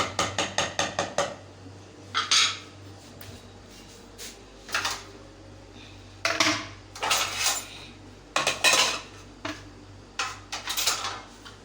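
Metal clatter of a lid set over a cooking pot in a home kitchen where coriander has just been added, several sharp clanks and scrapes in short bursts with quiet gaps between.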